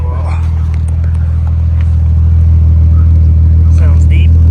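Steady, deep exhaust rumble from a Bayside Blue 2000 Nissan Skyline R34 idling after a turbo timer run, heard close by and continuous, with faint speech and rustling over it.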